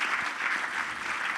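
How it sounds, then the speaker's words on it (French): An audience applauds after a talk on decarbonising daily life, a dense, steady wash of many hands clapping that holds at an even level throughout, with no voices on top. "on peut l'applaudir"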